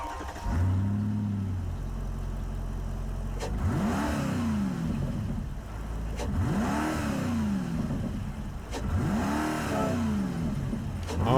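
A 2009 Mercedes-Benz SLR McLaren in Gran Turismo 7 fires up with a brief starter burst, then three rising revs that sweep up and fall back in even succession, loud and close with no talk.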